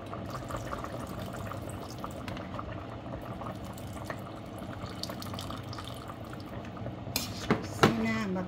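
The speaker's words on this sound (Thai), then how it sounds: "ใส่น้ำมะขามลงไปจ้า" Tamarind water poured into a pot of sour curry with mackerel and bamboo shoots: a steady, close simmering wash with small clinks, then a brief splash and pour near the end.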